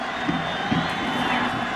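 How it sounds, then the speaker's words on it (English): A distant crowd roars and cheers steadily at a high school football game at Aloha Stadium, a broad, even wash of stadium noise with faint shouts and no clear peaks. "And the crowd comes to life at Aloha Stadium."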